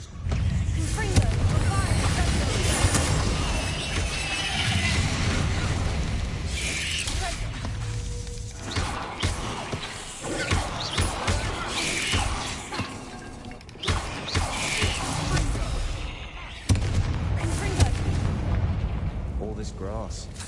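Confringo fire spells burst repeatedly in Hogwarts Legacy, loud explosive blasts and crashes layered over continuous game effects and music, with a player talking at times.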